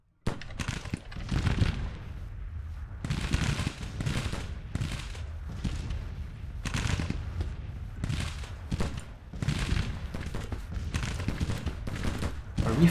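Repeated bursts of naval cannon fire from Civil War warships in the strategy game Grand Tactician: The Civil War, arriving as booming volleys every second or two throughout.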